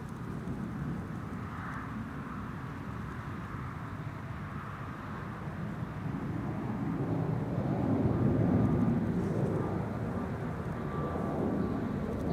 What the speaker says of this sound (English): KLM Flight 744, arriving from Lima in Peru, creeping up behind the Orange Pride.